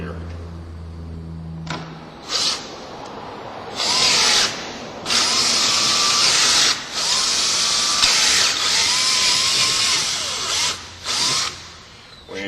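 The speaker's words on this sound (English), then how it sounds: "And then we're going to drill these 4 holes out." A power drill whines in several bursts of rising and falling pitch, close and loud, with short pauses between runs and brief quiet gaps.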